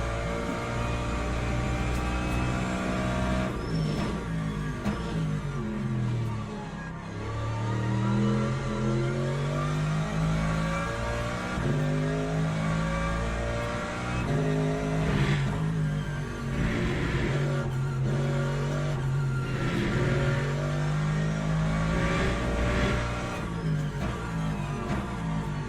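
A Porsche GT3 race car engine in the Le Mans Ultimate racing game drones steadily and loud for the whole stretch, its pitch climbing and dropping through gear changes with no pauses and no talk.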